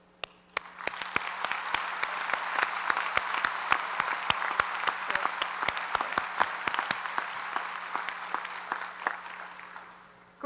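Commencement audience applauding the faculty at a college graduation ceremony: steady, dense clapping from a large crowd that swells quickly, holds for about ten seconds, then tapers off.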